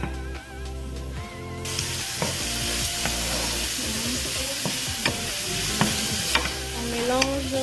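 Chicken fries in a pan for macaroni pasta, a steady close sizzle with clinks and scrapes of stirring throughout, no one talking.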